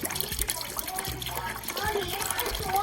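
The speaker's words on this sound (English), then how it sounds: "I'm just gonna pour in half a gallon in here." Half a gallon of milk pours into an Instant Pot in a steady splashing, gurgling stream that fills the short stretch at close range.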